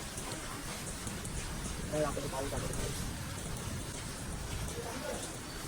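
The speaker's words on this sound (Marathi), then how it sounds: "खूप पाऊस आहे." Steady heavy rain hisses continuously across the whole stretch, with a voice faintly audible underneath at one point.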